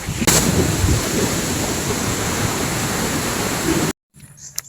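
Maapon Falls in Lucban, Quezon roars as a loud, steady wash of falling water, then cuts off abruptly near the end, leaving faint quieter sounds.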